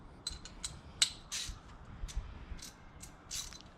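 A ratchet tightens four bolts back onto a Mazda Miata during a spark plug change, with quick, faint clicking bursts and small metallic ticks close by, with no talk.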